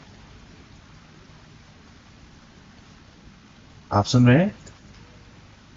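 Steady rain falls as a continuous, even hiss throughout, and a voice cuts in briefly near the end.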